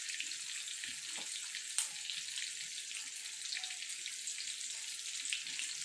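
Prawns that have just been turned to their other side fry in a pan of oil, giving a soft, continuous crackle and hiss with one brief clink, fairly quiet and without talk.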